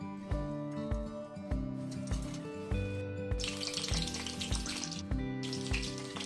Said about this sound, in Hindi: अब हम कढ़ाई में एक एक करके बैंगन डालेंगे।